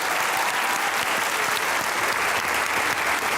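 Applause from a studio audience welcoming a poet on a comedy talk show, a thick, steady roar of clapping that stays loud and unbroken throughout.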